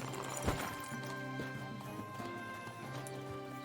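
Horse hooves clip-clop steadily in the medieval video game Kingdom Come Deliverance 2, close and even-paced over a bed of game music, with a brief louder thump early on.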